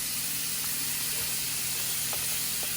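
Six bacon burger patties sizzle on a grill with a steady hiss and crackle, a few sharper pops breaking through the even frying noise.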